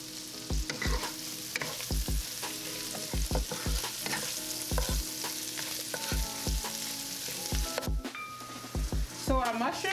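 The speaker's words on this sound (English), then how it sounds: "So our mushrooms are cooking." Mushrooms sizzling in a pan for fajitas, a steady frying hiss broken by repeated rhythmic knocks and scrapes of a utensil stirring them, fairly close but quiet overall.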